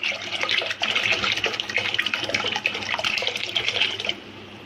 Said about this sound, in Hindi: ये देखिए थोड़ा पानी और डाल रही हूँ